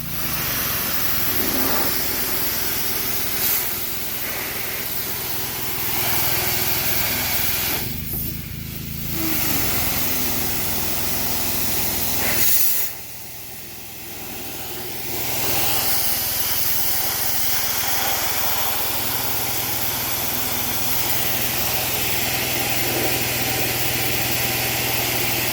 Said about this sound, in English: Alright, so I have the pressure washer running.